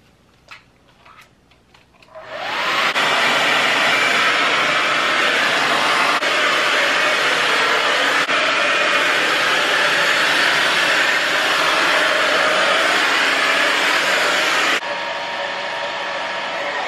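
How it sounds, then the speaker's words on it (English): A hair dryer blows drying long hair, a steady loud broadband whoosh that switches on after about two seconds of quiet handling noise and runs continuously, easing slightly near the end. "just blow drying my hair."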